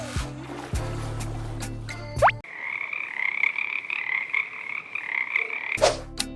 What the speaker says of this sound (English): The correct answer is frog.